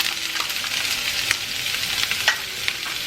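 Onion and garlic frying in olive oil in a pan, a steady broadband sizzle with scattered crackles and small stirring clicks, close and continuous with no voices.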